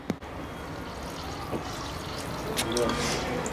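Water gurgling and bubbling inside a traditional desi hookah as it is filled and set up, with irregular close trickles and bubbling that build toward the end, and a voice audible at times.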